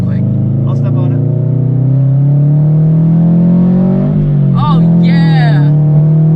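A bagged widebody Subaru BRZ / Scion FR-S revs up and accelerates with a steady, loud droning engine note heard from inside the car, as people talk and exclaim over it.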